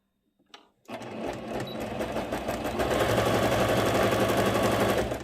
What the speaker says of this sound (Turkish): Buradan dikmiyorum.